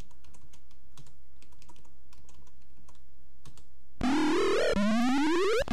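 Quick bursts of computer keyboard typing click steadily while a Gold Box D&D game is played, then a loud electronic warbling tone from the game cuts in and rises over the final seconds.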